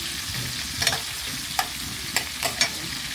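Garlic frying in cooking oil before the oil is fully hot: a steady close sizzle with a few sharp stirring scrapes and taps.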